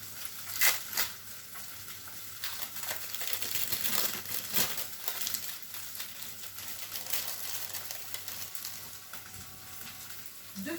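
Steak and french fries sizzle steadily in hot fat for a homemade burger meal, a continuous crackling hiss with occasional louder pops and spatters, close by with no talking.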